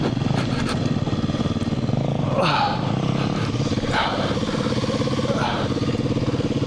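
A motorcycle engine runs steadily while being ridden off-road on a dirt fire road, a constant close drone with a few brief surges, and no talking.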